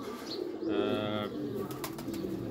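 A home-bred young pigeon coos nearby in a short throaty burst, with soft background noise and no talk.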